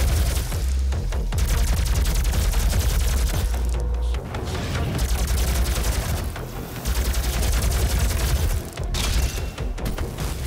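Laser gun firing in the Doom video game, a dense, continuous barrage of loud energy blasts and rapid crackling shots over booming low rumble, with a few brief lulls in between.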